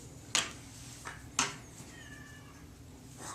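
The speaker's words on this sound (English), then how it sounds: "The cat is crying, Mom." A cat meows a few times in a home, two or three short cries spaced apart, fairly close, with faint household noise around them and no talk over them.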